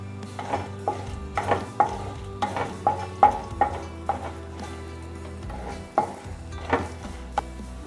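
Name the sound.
frying cumin, mustard seeds, urad dal, chana dal and dried chillies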